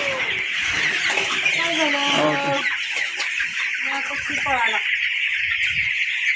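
Broiler chickens on a poultry farm cluck and chatter continuously in a dense, busy chorus, close and fairly loud, with no talking over it.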